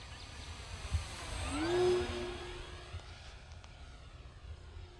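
An FMS P-40B radio-controlled model airplane, 1.4 m wingspan, passes overhead in a turn, its propeller drone rising in pitch and loudness then fading away, with faint outdoor background and no talk.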